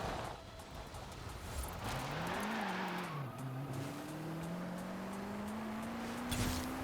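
A car engine in Forza Horizon 4 revs and climbs steadily in pitch as it accelerates, dipping briefly at a gear change before pulling on, a single steady engine note heard fairly close.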